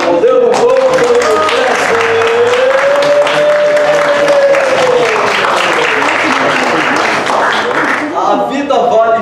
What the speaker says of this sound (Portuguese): vamos dar uma salva de palmas para o Poder do Conto